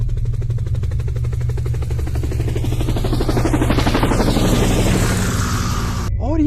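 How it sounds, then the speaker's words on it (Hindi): A cartoon helicopter starts up with a loud, steady rotor chop and engine whine that builds and sweeps upward, then cuts off abruptly near the end. "फिर ग्रैंडपा हेलीकॉप्टर को स्टार्ट कर देते हैं"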